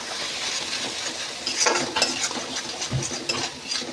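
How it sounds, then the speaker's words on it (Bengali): Onions stirred and sautéed in a pan of oil while cooking a Bengali halua chanda fish curry, a soft steady sizzle with scraping spatula strokes and occasional light utensil clinks, close and alone. "একটু ভালো করে একটুখানি কষিয়ে নেব।"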